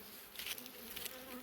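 Honeybees buzz steadily at an open hive, a dense close-up hum with brief louder swells as individual bees pass near, no voices.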